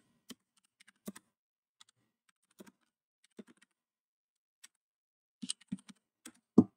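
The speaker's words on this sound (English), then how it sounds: "so let me type that in again." Typing on a computer keyboard at a homebrew 8080 computer running BASIC, with sparse, separate key clicks at an irregular pace and a quicker cluster near the end, close and quiet with silence between keystrokes.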